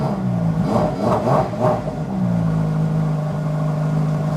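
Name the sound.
Ferrari engine revving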